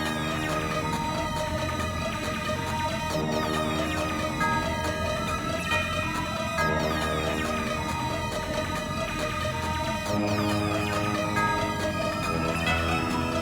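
An FL Studio melody transposed up two semitones for a glo-style trap beat: dense, bright layered synth tones play continuously at an even, loud level, with no voices.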